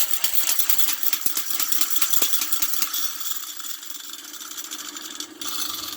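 Paint roller spun inside a bucket to throw off excess conditioner, giving a rapid rattling, clicking whir that runs for several seconds and then slows.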